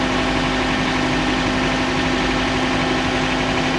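A truck engine rumbling steadily at low revs under light throttle while towing on a ranch, a constant close drone with a strong low hum and no voices.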